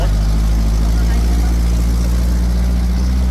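A 4x4 vehicle's engine runs during a ride in Bulacan. It makes a constant deep idling rumble, loud and close, and voices talk over it.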